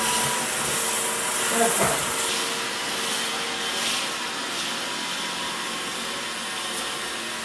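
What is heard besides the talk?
Roomba robot vacuum cleaner running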